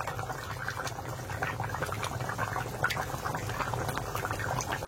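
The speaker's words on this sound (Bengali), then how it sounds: "দেশি মুরগির ঝোল কেমন টকবগিয়ে ফুটছে দেখো।" Desi chicken curry simmering in a covered pot over low-to-medium heat, bubbling and popping in a soft continuous patter close by, with no talk.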